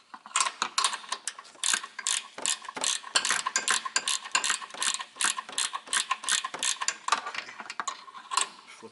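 A ratchet turning to loosen a nut on the left rear strut of a 2004 Ford Explorer 4X4, rapid close clicking in bursts with brief gaps.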